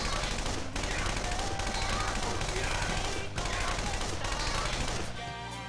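Rapid, loud automatic gunfire from an attack in the video game Persona 5 Royal, dense continuous bursts of shots with brief gaps, no talking.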